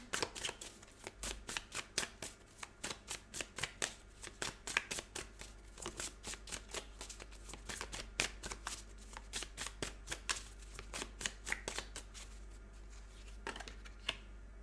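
Tarot cards are shuffled close up in quick, crisp riffling bursts that repeat rhythmically throughout, soft overall, with no talking.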